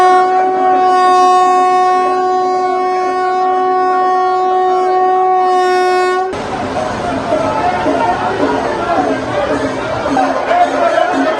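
The Thiruvananthapuram–Kannur Jan Shatabdi Express at Changanassery railway station gives a loud, sustained multi-tone horn for about six seconds, then gives way to the rough, steady rumble and clatter of the train moving along the platform.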